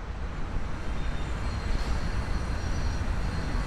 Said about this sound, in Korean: 그 다음에 공사 현장이 있는 그런 소리.